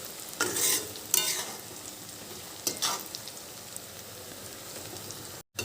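Sliced onions browning in mustard oil for a mutton curry give a steady crackling sizzle with a few louder stirring scrapes near the start, close and alone without talk.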